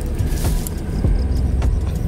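A Toyota Land Cruiser 300 ZX creeps along in crawl mode. A steady low engine and drivetrain rumble runs throughout, with a few faint clicks and whirs above it.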